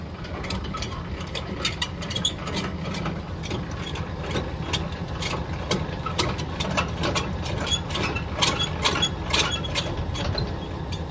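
Landing gear on a pintle hitch trailer is cranked down quickly, making a steady, rapid mechanical clicking and ratcheting that runs throughout at close range over a low hum.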